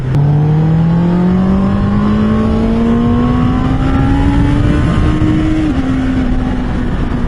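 A Honda CB650R motorcycle engine revs high and loud. The pitch climbs steadily under acceleration, then drops slightly at a gear change, heard up close from the rider's position.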